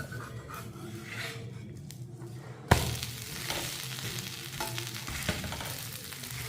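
A ponnanganni ragi dosa sizzles and fries on a hot pan after being flipped, a steady close crackle with a sharp clatter partway through as the pan is touched.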